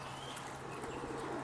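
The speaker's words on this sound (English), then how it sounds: "Okay, all the pigeons." Farm pigeons coo softly in a low, continuous murmur, with faint chirps and a bit of wing flutter in the background.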